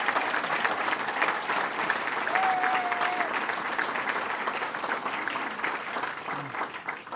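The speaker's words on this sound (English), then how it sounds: "Give them another round of applause." Sustained audience applause at a North Country regional economic development council party, steady and dense throughout, fairly loud with a brief whistle or cheer partway through.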